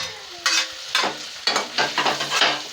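Chillies fry and get stirred in a pan, a steady sizzle broken by regular scraping strokes roughly every half second, close and clear with no talking.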